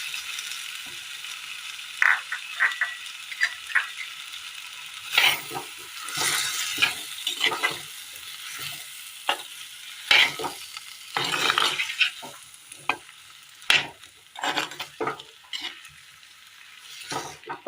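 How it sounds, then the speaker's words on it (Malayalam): Chopped bottle gourd stirred into cooked tomato in a pan, a quiet sizzle broken by repeated close scrapes and clinks of a spoon against the pan in irregular bursts. "ചുരക്ക അരിഞ്ഞത് ഇട്ട് കൊടുക്കാം."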